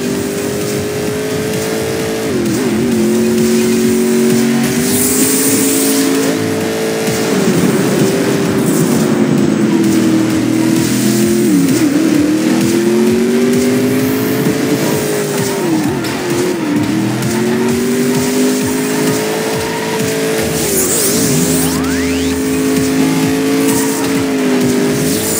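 Race cars in the 2019 Hot Wheels id video game rev their engines and squeal their tires, a loud continuous engine whine rising and falling with acceleration, alone with no talking.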